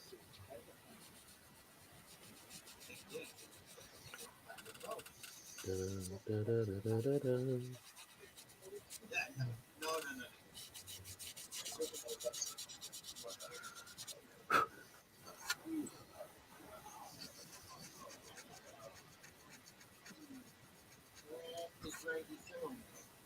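Hand sanding body filler away from rivet lines on a vehicle panel: quiet, irregular scratchy rubbing strokes up close, interrupted by a few knocks, with people talking over the sanding.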